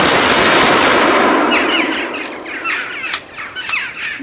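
A volley of musket gunfire erupts on a command to fire, a loud sustained roar that trails into scattered crackling reports and echoes, with no talking over it.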